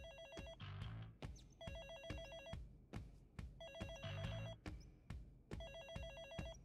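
A phone ringtone in the video game Hi-Fi Rush chirps in repeated electronic bursts, four rings with short gaps between them, heard faintly and alone.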